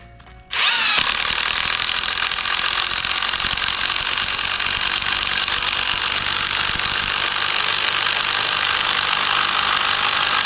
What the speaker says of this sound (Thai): ผมจะใช้ตัวนี้นะครับ ยิงเข้าไปนะเพื่อยึด ตัวเสาของเราเนี่ยให้มันแน่นนะครับ